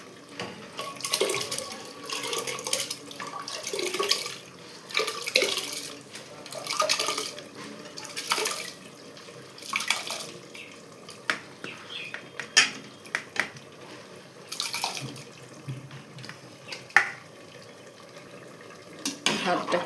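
Soaked rice tipped into hot water in a pot and stirred, with clattering metal utensils, scraping and watery sloshing in irregular bursts, fairly faint and close.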